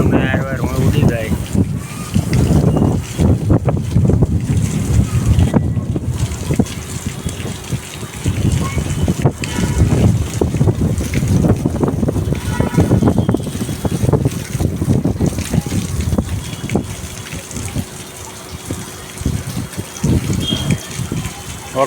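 Strong gusty wind buffets the microphone in loud, uneven rushes of noise, with people talking through it.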